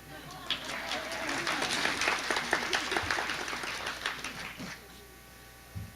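Applause at a memorial service, a moderate crowd clapping steadily at a slight distance, swelling and then tapering off to a few scattered claps.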